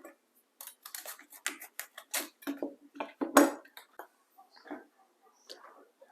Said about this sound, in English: So this is how I cut my cauliflower. How I cut them in cubes.